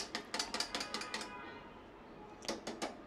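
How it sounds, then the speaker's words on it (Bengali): A whisk clatters briskly against a metal pan while mixing a powdered milk mixture for caramel pudding, giving a fast, light rhythmic tapping that pauses briefly and then starts again, faint and close. "আর মেশানোর জন্য আমি এখন একটা হুইস্ক ব্যবহার করব।"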